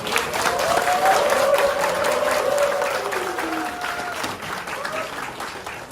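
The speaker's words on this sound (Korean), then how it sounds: "한 대표님께 박수 한번 부탁드립니다." Audience applause for party leader Han Dong-hoon at a unification seminar forum, a dense sustained clapping from a large crowd that swells early and tapers slightly toward the end.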